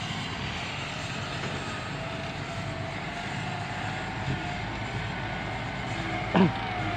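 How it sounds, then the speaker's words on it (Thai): A tractor clears a road at a work site, making a steady, close engine drone that runs unbroken and loud throughout, with no talking. "นี่รถไถก็กำลังรีทางให้อยู่นะครับ"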